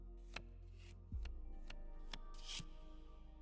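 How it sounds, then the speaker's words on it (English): A tarot deck is shuffled in the video game The Cosmic Wheel Sisterhood, giving a few soft, papery card riffles and taps spread over several seconds, quiet, with no voices. "while I shuffle my deck"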